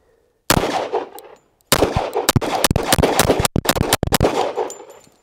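Loud, sharp pistol shots from a 1911 Commander carry handgun at a range, a single report followed by a rapid string of closely spaced shots with brief pauses, close and dry.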